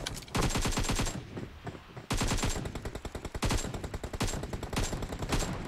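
Rapid automatic gunfire in BGMI (Battlegrounds Mobile India) played on iOS, loud sustained bursts of machine-gun fire with a brief pause before another long volley.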